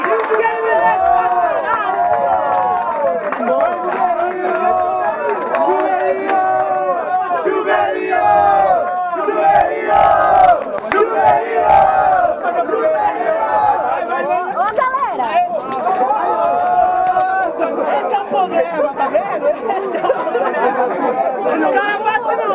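A crowd at the grand final of a student rap battle in Guarulhos, São Paulo, cheering and shouting loudly and continuously, a dense roar of voices with scattered yells throughout.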